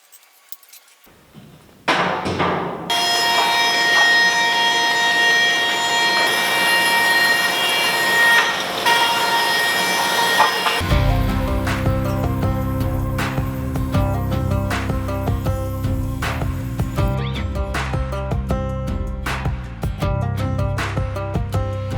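Thin-kerf saw blade ripping wood into a pile of strips, a loud steady whine with a droning cut that starts after a brief lead-in and continues throughout, with clattering of stock toward the end.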